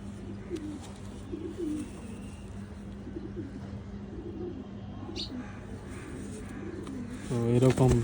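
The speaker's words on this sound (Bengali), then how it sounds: "মাদি কবুতর, এটি একটা মাদি কবুতর।" A female pigeon of an old traditional breed in a loft coos softly near the end, a short burst of low throaty notes over steady background hum, with faint chirps and murmuring voices earlier.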